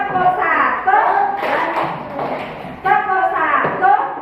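A first-grade class in an Indonesian primary school claps together in a teacher-led counting clap game, with a few sharp group claps rising over loud, steady children's chanting and the teacher's voice.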